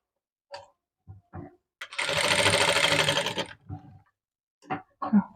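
A sewing machine stitches piping on fabric in one continuous loud burst of about a second and a half, with brief handling clicks and knocks before and after.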